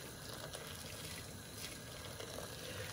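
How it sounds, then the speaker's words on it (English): Boiling water pours into a pot in a steady, continuous rush, faint and even throughout, with no voices. "Add then a little bit of water. In this case, I'm using boiling water."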